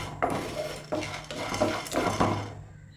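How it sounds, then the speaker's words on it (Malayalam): Chana dal dry roasting in a pan for rasam powder, heard as a few close metallic scrapes and rattles of a spoon stirring the dry lentils against the pan, with brief quiet gaps between strokes and no talk. "ഇതൊന്ന് ചുവന്ന് കിട്ടണം, ആ പരുവത്തിലൊന്ന് വറുത്തെടുക്കാം."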